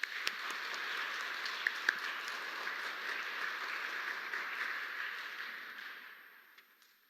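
A church congregation at a Korean Catholic Sunday Mass in Manhattan claps for a visiting priest, a dense, even wash of applause that holds steady and then slowly fades out over several seconds.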